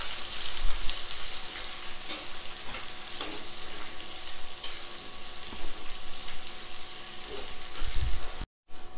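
Onions sizzling steadily in a hot pan as they fry to brown for a mutton curry, a dense crackling hiss with occasional stirring scrapes.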